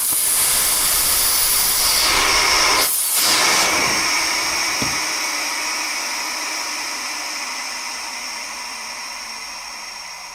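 Air rushes out through the valve of a Vevor 3-ton portable air bag jack as it lowers, a loud close hiss that breaks briefly, then steadily fades over several seconds.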